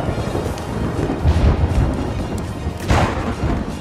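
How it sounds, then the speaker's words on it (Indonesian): Distant rolling thunder rumbles low and steadily beneath light drizzling rain, swelling twice into deeper booms over a continuous soft patter. "kini berganti dengan hujan gerimis disertai beberapa guntur"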